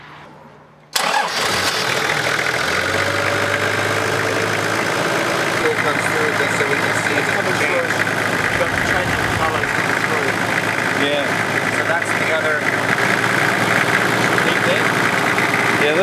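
A diesel car engine catches after a short quiet lead-in and idles steadily and loudly on a water-fuel mix, a constant rumbling chug with voices talking over it.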